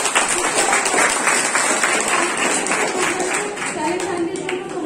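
An audience at a college students' week celebration bursts into steady, dense applause, clapping continuously near and loud while a voice speaks over it.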